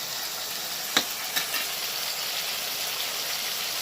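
A tomato and turmeric spice mixture with slit green chillies fries in a pan in a steady close sizzle, while a spoon stirs it with a couple of sharp scrapes early on and no voices.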